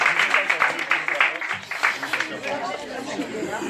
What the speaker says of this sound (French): je vous demanderai un tonnerre d'applaudissements pour Imen